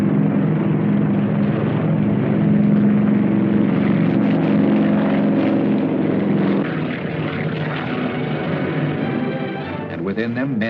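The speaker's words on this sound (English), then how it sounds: "At dusk, the first planes took off, each transport towing twin gliders." Propeller transport planes taking off at dusk, each towing twin gliders, captured on vintage film: a loud, steady engine drone that holds throughout, easing slightly near the end.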